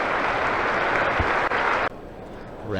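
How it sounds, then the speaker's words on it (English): Cricket crowd applauding at a county match between Somerset and Surrey, a broad steady wash of clapping that holds loud and even, then drops sharply to a quieter murmur near the end. "You can hear the applause."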